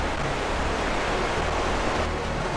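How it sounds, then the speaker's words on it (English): A rainforest waterfall roars as a steady, dense rush of falling water, loud and unbroken throughout, with no voices. "And here's the beautiful waterfall."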